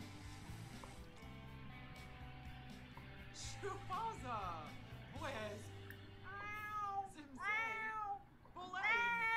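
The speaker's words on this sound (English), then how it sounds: "Rosa, are you even gonna go care that your cat is dying?" A dying cat in The Sims 4 meowing repeatedly in drawn-out, rising and falling wails, close and fairly loud over low background game music, growing more frequent toward the end.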